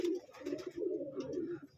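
Close, continuous cooing from racer pigeons in a loft where a hen has laid eggs, several birds' rolling coos overlapping without pause.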